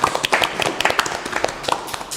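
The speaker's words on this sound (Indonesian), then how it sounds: "Tepuk tangan dulu dong teman-teman." Applause rises from an audience at a youth talk show honoring a student e-sports team, scattered hand claps heard for a couple of seconds at moderate volume.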